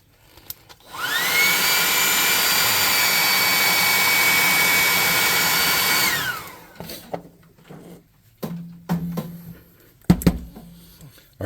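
A hair dryer blasts steadily on fresh paint on a tabletop miniature worg, a loud even whine that spins up, holds for about five seconds and cuts off, followed by quieter handling clicks and taps.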